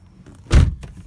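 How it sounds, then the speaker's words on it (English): A Toyota car door shuts with one solid, close-up thump, set against quiet surroundings with no voices. "Close and open the door twice."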